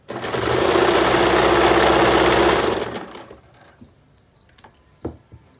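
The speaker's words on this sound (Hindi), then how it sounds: "इसमें सिलाई लगा लेंगे" A sewing machine runs steadily for nearly three seconds, stitching a folded kurti or blouse sleeve pattern, loud and close with a dense mechanical whir, then stops, leaving a few small clicks and taps of fabric handling.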